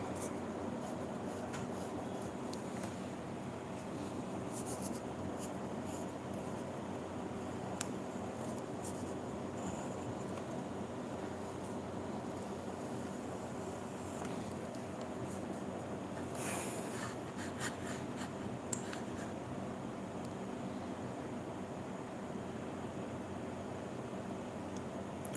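A pencil scratches steadily on paper while sketching for a coffee painting, a soft continuous rasp over faint background hiss with a few small taps.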